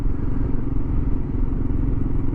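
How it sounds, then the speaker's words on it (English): The engine of a Kawasaki KLR 650 motorcycle runs with a steady, close, low thumping rumble for a couple of seconds, with no voices. "Bike's running really good."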